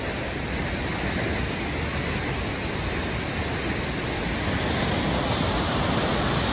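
The third waterfall at Campo Tures in northern Italy roars close by, a dense, steady rushing wash with no break and no voices.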